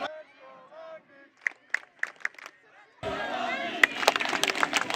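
A college soccer crowd at Long Beach State versus UCLA breaks into loud cheering and clapping after a stretch of commentary and scattered claps, with voices talking over it.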